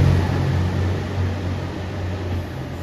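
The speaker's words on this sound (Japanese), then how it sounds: "高松駅7時23分発、特急四万十高知行き2700系特急機動車です" A JR Shikoku 2700 series limited express diesel railcar idles at Takamatsu station, its engine giving a steady low rumble with a constant hum and broadband station noise throughout, fairly loud and unbroken.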